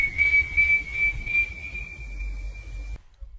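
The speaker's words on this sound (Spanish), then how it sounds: "Silba las notas musicales o una tonada." A single sustained, steady whistled tone in an eerie ghost-legend setting holds nearly unchanged for about three seconds, then cuts off abruptly into silence.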